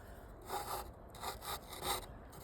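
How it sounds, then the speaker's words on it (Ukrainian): A low-speed metal cut-off saw rasps through metal in slow, rhythmic strokes, about four passes, quiet and close. "фактично йде різання металу, як як ножівкою"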